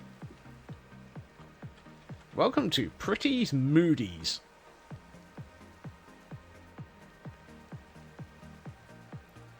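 Minecraft rain falls as a soft, steady patter of regular droplet ticks throughout, faint and close, with a person speaking briefly in the middle.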